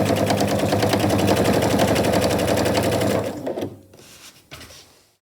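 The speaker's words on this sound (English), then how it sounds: "Now I'll come back around and do another line of stitching again with my 1/4 inch seam allowance" A sewing machine runs fast stitching a seam on a fabric tote bag, a rapid steady mechanical chatter up close that slows and stops, followed by a couple of faint handling clicks.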